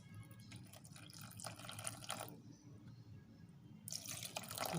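Rose water poured into a container while mixing a skin repair cream, a soft liquid trickle and splash with a brief pause midway, close and fairly quiet, with no talking.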